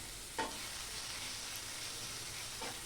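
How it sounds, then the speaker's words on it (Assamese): Chopped onions frying lightly in a pan make a gentle steady sizzle, broken by two quick spoon scrapes near the start and end, soft and close with no talking. "পিঁয়াজখিনি এতিয়া মই হালকা কৰি অকণমান ভাজি ল'ম।"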